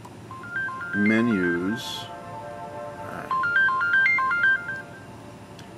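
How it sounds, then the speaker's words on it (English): A phone rings with an incoming call: a stepped electronic ringtone melody plays clearly in two bursts, with someone speaking briefly between them. "you're calling me on the phone"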